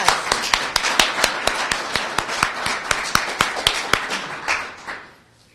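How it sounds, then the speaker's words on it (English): A small audience at an adoption awareness presentation gives a round of applause, scattered claps rattling at a brisk, uneven rhythm for several seconds before fading out. "A big round of applause."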